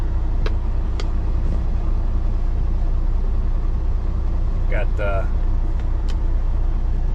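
Trucks sit rumbling on a road while a parked vehicle waits to get in, a steady close engine drone with a few brief squeaks and a short word spoken over it.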